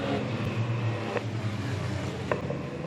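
Banger racing cars, one of them a battered hearse, run at Standlake, their engines a low continuous rumble at a distance with a couple of faint knocks.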